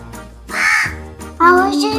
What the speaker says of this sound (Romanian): Ionuț, cioara ne-a furat mai multe lucruri de pe masă